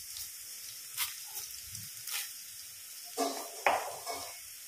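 Fenugreek and black pepper frying in a pan with coriander, a faint, close sizzle broken by a few soft stirring scrapes and light spoon taps, no talking.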